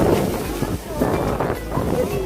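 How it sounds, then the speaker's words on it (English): Strong gusty wind buffets the microphone outdoors in Isparta, Turkey, a loud rushing roar that swells and eases in uneven waves. "So you can see we have the windy weather."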